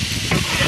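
Hot oil sizzling hard over browned onions in a pot on a wood-fired stove, a short, dense, loud frying hiss.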